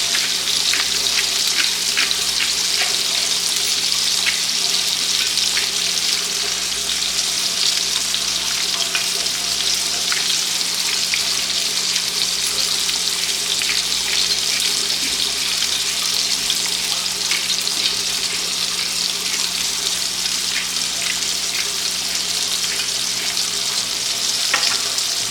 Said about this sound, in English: stir up these fries a little bit, these home fries. Take a little longer to cook these.